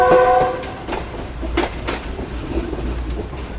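The Pak Business Express passenger train runs at a station on the main platform, giving a steady rumble and rail clatter with a brief horn-like tone at the start, close and continuous.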